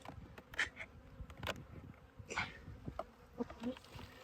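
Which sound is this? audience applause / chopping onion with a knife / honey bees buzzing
honey bees buzzing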